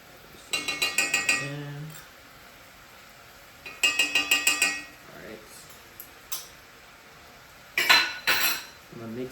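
A metal spoon clatters in quick rhythmic bursts against a pan while mixing red curry paste, three clusters of ringing clinks and scrapes separated by quieter gaps, close and fairly loud.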